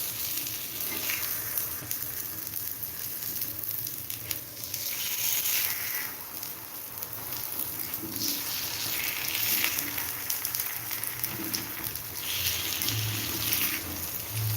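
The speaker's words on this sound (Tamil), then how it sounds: "எனக்கு வந்து சாமான் கழுவுற வேலை இருக்குது நிறைய சாமான் சேர்ந்து போயிடுச்சு" Dishes being washed under a running kitchen tap, a steady hiss of flowing water with intermittent clatter and splashing as pieces are rinsed, close by and continuous with no talking.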